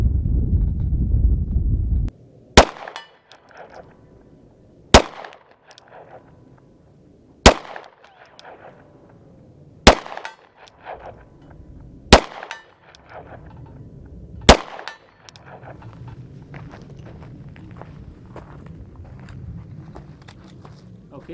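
Six sharp Sig Sauer M17 pistol shots fired at a steel target about 77 yards away, evenly spaced roughly two and a half seconds apart, each a loud crack with a short ringing tail over outdoor wind noise.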